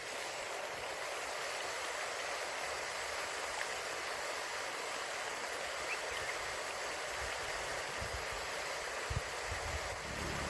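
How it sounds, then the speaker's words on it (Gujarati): Water flows along a concrete road in Maharashtra on a hot day, a faint, steady rushing hiss that carries on evenly throughout, with no one speaking. "પાણી જઈ રહ્યું છે"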